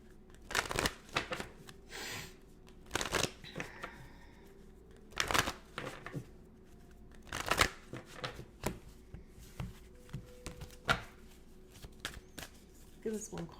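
African Goddess Rising Oracle cards being shuffled by hand in repeated riffling bursts, crisp and close, with pauses between them, quiet and alone with no voice.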